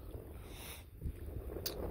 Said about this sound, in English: Yeah, you can hear that wind.